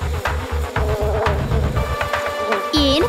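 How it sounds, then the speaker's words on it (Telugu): Buzzing bees in a cartoon fable, a steady throbbing drone with pulsing beats and a rising tone near the end, close and fairly loud with no talk. "ఈ రోజు ఈ తేనెటీగలు చాలా శబ్దం చేస్తున్నాయి."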